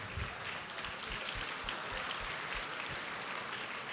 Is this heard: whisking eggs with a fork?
no